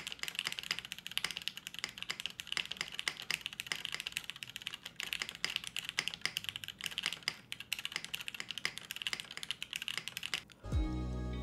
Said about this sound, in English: Hard to type on this. It's very crisp sounding.